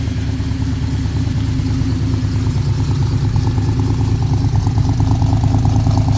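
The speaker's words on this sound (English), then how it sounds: "It's a little bit cold right now, so it's idling higher than normal." A cold 1967 Pontiac LeMans restomod V8 idles high, a steady close rumbling drone with fine rhythmic pulsing throughout, alone without voices.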